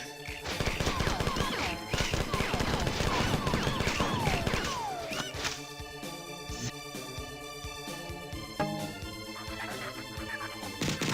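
Rapid assault rifle fire rattles in dense bursts over loud game music in the Marathon video game, thinning into sparser shots and musical hits later; no talking.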